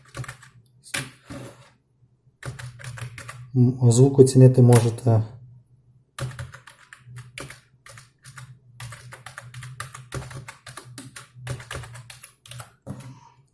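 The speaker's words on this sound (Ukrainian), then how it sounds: "Стандартний звук дешевих клавіатур" Clattering keystrokes on an inexpensive Vinga KBS170 computer keyboard in bursts, close up, with a person speaking briefly between the typing runs.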